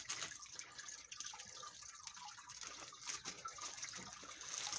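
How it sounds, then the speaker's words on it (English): Bags of goldfish poured into a tank of crappie, a faint continuous splash and trickle of water with small drips, recorded close on a phone with no talk. "This is 75 goldfish we're pouring in."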